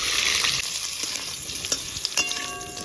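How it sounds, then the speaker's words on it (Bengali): Potato pieces fry in a hot pan while being stirred for a Bengali sukto, giving a loud, close, continuous sizzle with scraping stir strokes and a few sharper clinks near the end. "আলুগুলো এইভাবে একটু নাড়াচাড়া করে নিলাম"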